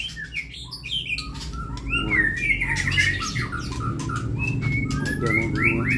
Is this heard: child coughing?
no